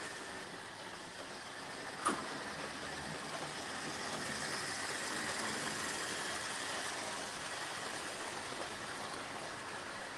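A model railway locomotive runs on a layout with a steady, even rolling hum and whir that holds at a moderate level throughout, broken by one brief click near the start.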